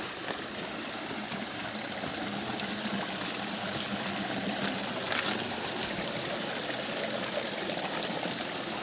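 Steady broadband rush and trickle of a muddy stream flowing through a forest trail, continuous and close, with no voices.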